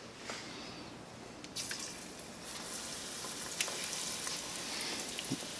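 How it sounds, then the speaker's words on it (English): Batter-coated corn dogs fry in hot oil, a continuous close bubbling sizzle with occasional pops and crackles, steady and moderate in loudness, with no talk. "And we're going to go right into this oil."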